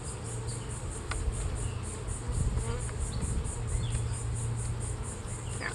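Bees from an opened swarm trap make a dense, steady buzz that continues unbroken throughout, close and fairly loud, with a few brief higher insect whines on top and no talking.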